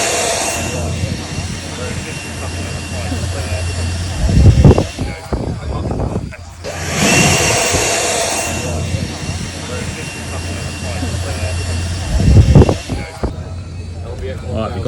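Ego LBX 1000 handheld leaf blower roaring on its turbo setting at an outdoor gardening festival, a steady high rushing whoosh in two long bursts with a brief drop between them, people talking nearby.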